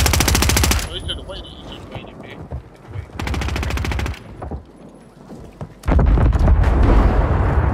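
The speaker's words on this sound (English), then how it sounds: "Come on, fire, shoot." Rapid automatic gunfire in the video game Warzone comes in loud, dense bursts, with quieter gaps and scattered shots between them, then a final sustained volley.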